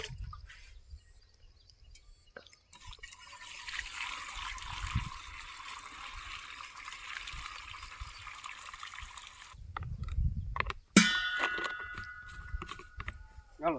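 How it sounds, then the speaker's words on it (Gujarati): Water from a village water pot is poured into a pump sprayer tank that already holds pesticide, making a steady, moderately loud rushing trickle that lasts several seconds and then stops, followed by a few clinks and knocks. "હવે પાણી નાખશે"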